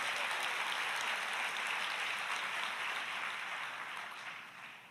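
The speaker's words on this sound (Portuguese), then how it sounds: "Pode aplaudir o Senhor." A church congregation applauds in a broad, sustained wash of clapping that gradually fades toward the end.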